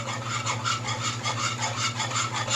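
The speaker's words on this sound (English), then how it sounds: "Just keep whipping till you get all your lumps out of it." A wire whisk stirs lumps out of gravy with a rapid, continuous scraping swish under a low steady hum, close and moderately quiet. No one speaks.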